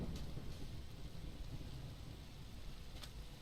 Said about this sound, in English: it's not just raining, it's a thunderstorm